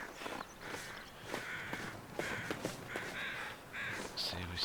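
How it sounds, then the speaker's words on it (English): Crows caw repeatedly in The Long Dark survival game, a series of harsh, fairly close calls in uneven bursts over faint footsteps, with a voice speaking beneath them. "we still hear birds"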